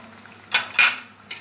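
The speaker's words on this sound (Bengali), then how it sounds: "একটু নেড়ে দেবো মুড়োগুলো একটু ফুটে যাক ঝোলের মধ্যে" A spoon stirring fish heads through simmering curry in a pot: two quick metallic scrapes and clinks close together, then a third fainter one, over a quiet background with no voices.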